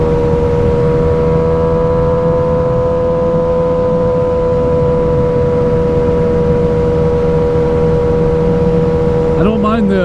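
2007 Yamaha R6 motorcycle fitted with a Power Commander and full exhaust, a loud high-pitched steady engine wail held at constant revs, ending with a brief rising flourish.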